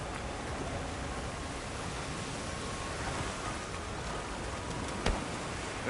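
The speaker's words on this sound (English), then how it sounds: "A downpour like this could have an effect on the monsters." Heavy rain downpour in the video game Monster Hunter Wilds, a steady, dense hiss of falling water that stays even throughout, with one brief louder spatter near the end and no voices.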